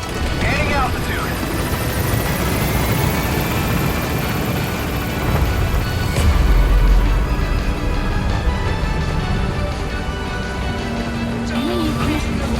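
A helicopter in Metal Gear Solid V climbs after leaving a landing zone, its steady rotor drone and engine roar loud and close, swelling briefly midway, with radio-style voices talking over it.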